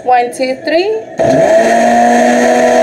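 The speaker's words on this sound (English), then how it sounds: "And just blend it one more time." An electric blender whirs on at full speed while blending tomatillo salsa, starting abruptly after a spoken count and running loud and steady to the end.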